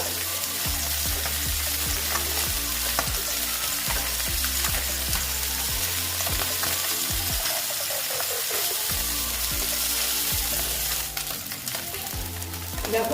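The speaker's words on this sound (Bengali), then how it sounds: "মোটামুটি আমার মাছ ভাজা হয়ে গেছে" Small bata fish frying crisp in hot oil, a dense steady sizzle running throughout, broken by repeated clacks of a spatula or utensil against the pan as pieces are turned, close and loud.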